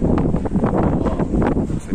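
Gusty wind buffets the microphone in rumbling, uneven bursts, a loud low roar that swells and dips with no speech.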